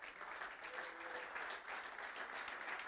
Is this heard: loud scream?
no